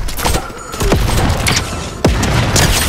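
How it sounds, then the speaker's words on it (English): A sticky grenade launcher fires in a video game, producing a series of booming thumps and sharp bursts spread across a few seconds, loud and close with no talk over them. "A sticky grenade launcher."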